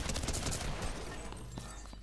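Dense rapid gunfire in a Fortnite match, a loud sustained volley that slowly fades over two seconds, with no talking over it.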